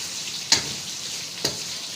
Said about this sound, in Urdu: اب ادرک اور لہسن کے پیسٹ کو اچھے سے مکس کریں گے اور ہلکا سا فرائی کریں گے